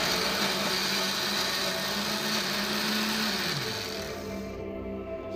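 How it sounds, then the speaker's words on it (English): Blender grinding almonds and cashew nuts, a loud continuous motor whir up close whose pitch drops partway through as the load shifts, running steadily without talk. "Now let's blend."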